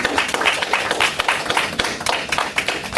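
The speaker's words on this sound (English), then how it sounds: "Oh my gosh, another round of applause." Applause from a Toastmasters district training audience, a dense patter of claps that stays steady and fairly close for the whole stretch, with no talk over it.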